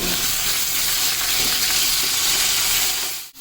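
One kilo of chicken fries in a pan with onion and ginger-garlic paste, a loud, dense continuous sizzle and hiss held close, cutting off abruptly at the end, no talking.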